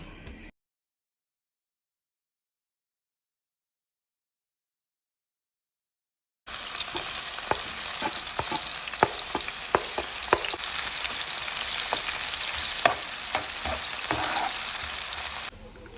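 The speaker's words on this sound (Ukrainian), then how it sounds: "Поки цибулька смажиться" After a silent gap, onions sizzle steadily in a hot pan, a close, bright hiss with occasional pops and crackles.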